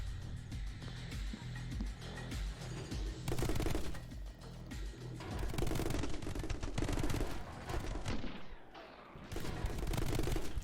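Rapid gunfire in the video game My Friend Pedro as a crate is shot, dense bursts of repeated shots rattling almost continuously for about ten seconds, loud and close with no talk.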